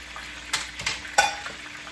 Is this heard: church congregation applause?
no